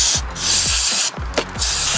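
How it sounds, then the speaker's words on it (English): Aerosol cleaner sprayed onto the outside of a Suzuki JR50 dirt bike carburetor, heard as loud close hissing bursts, about three in a row separated by short pauses, with no talking. "I'm just gonna go ahead and spray the outside of this carburetor."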